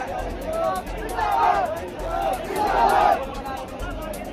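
A protest crowd at Jantar Mantar fills the air with loud, continuous massed voices and rhythmic chanting, close by and sustained throughout.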